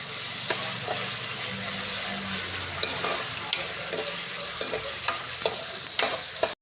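Food sizzles in a pan while being sautéed and stirred, a steady frying hiss broken by repeated scraping clicks of the utensil against the pan.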